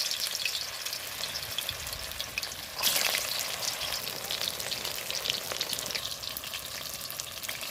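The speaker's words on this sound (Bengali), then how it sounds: "কড়াইতে আমি তেল দিয়েছি তেল গরম হয়ে গেছে আমি এক এক করে পটলগুলো উল্টে ছেড়ে দেবো" Stuffed pointed gourds (potol) frying in hot oil in a wok, a steady crackling sizzle throughout with a brief louder burst of spattering near the middle, close and continuous with no talk.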